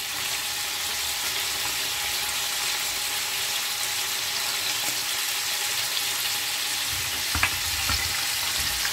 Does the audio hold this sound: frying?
yes